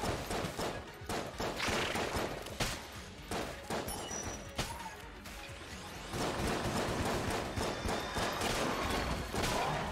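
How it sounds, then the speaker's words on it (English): Rapid revolver fire from Shades in Enter the Gungeon, a dense barrage of sharp gunshots and crashing impacts packed through the whole stretch with no pause, loud and continuous game combat. "Shades' revolver just takes way too long to frickin' reload."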